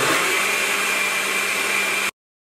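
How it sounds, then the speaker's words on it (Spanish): A kitchen blender whirs at high speed, mixing gelatin with a peach and tres leches dessert mixture in a steady loud motor drone that stops abruptly after about two seconds. "Voy a licuar lo que puse aquí en la licuadora."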